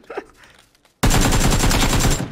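MK-14 rifle in PUBG firing a rapid, loud string of shots that starts abruptly after a moment of quiet and keeps going at a fast, steady rhythm, with faint voices before it.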